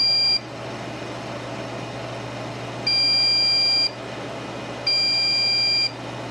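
A desktop computer with no display beeping at power-on, three long even electronic tones about two seconds apart, loud and close over a steady fan hum.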